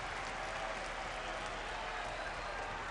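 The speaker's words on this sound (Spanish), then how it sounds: "En la forma de aplausos para el Undertaker." An arena crowd at WrestleMania 21 keeps up a dense, even wash of clapping for the Undertaker in his bout against Randy Orton, heard from a distance at a fairly low level.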